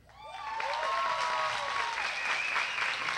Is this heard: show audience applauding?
yes